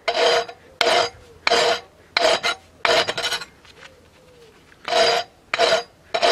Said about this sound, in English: I'm gonna clean them up a little bit here with the flap wheel.